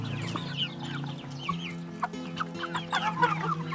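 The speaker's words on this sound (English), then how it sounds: "It's the brown chickens that lay eggs, and then the big white beefy ones that you eat." Several farm chickens cluck close by in a busy, uneven chatter over a low steady hum.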